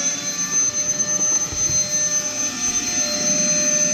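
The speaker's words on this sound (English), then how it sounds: "So we're gonna give that a shot and turn on the pump." A pump runs to drain a CarCapsule car storage bubble, putting out a loud, steady whine and whoosh with fixed high tones that holds without a break.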